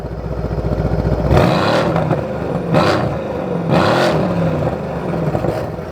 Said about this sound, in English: This is my mate's C63S, which I think you can agree sounds absolutely insane.